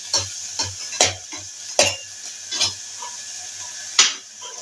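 Milk kova with cardamom stirred in a pan, with a spatula scraping in irregular strokes, about seven distinct scrapes over a soft background sizzle, close up.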